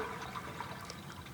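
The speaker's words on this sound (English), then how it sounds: "now he's going to flush it again. So there comes all your water out of that same location." A toilet flush sending water rushing through a sewer pipe, heard from inside the pipe as a brief, muffled wash of flowing and splashing water, fairly faint.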